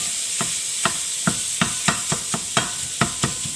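A Pampered Chef hand chopper working through vegetables, struck in a quick, uneven run of about a dozen sharp, close clacks over a steady background hiss.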